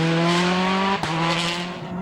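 A Citroen rally car tears through a tarmac vineyard stage at a WRC rally in Germany, its engine note loud and close, holding a strained high-revving tone that briefly dips and then resumes with faint tyre scrub.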